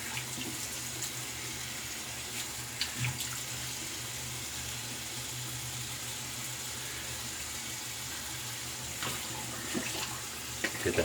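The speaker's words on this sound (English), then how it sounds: "Get that brush rinsed out." Tap water running steadily while a shaving brush is rinsed out after a shave with Soap Commander soap, a continuous close splashing flow with a few small knocks and no talking.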